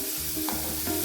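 Sliced onion with cumin sautéing in oil for a Kerala kovakka theeyal, a brief close sizzle with a couple of stirring scrapes, heard alone over a short moment.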